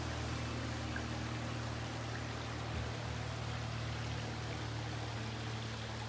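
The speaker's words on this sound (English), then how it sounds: "Little creek running through." A small creek runs through a wooded grove, its water making a steady, continuous rushing wash that stays constant and close from start to finish with no voices.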